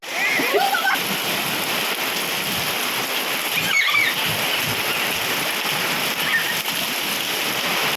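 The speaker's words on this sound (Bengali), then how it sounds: "যে উল্টো পাল্টা বৃষ্টি হচ্ছে" Heavy storm rain pours down as a dense, continuous wash of splashing water that stays steady and loud for the whole stretch, with occasional brief voices faintly audible beneath the downpour.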